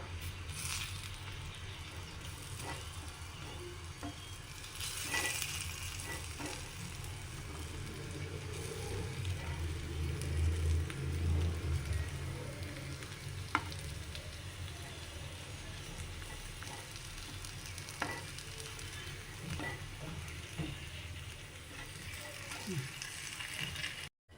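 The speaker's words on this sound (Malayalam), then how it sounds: "അപ്പോൾ നമ്മുടെ മധുരക്കിഴങ്ങും ഫ്രൈ ആയിട്ടുണ്ട് രണ്ട് പുറവും ഫ്രൈ ആയിട്ടുണ്ട്" Sweet potato slices fry in a pan, turned so both sides cook, giving a steady low sizzle and crackle throughout with occasional soft clicks and knocks of the slices being handled.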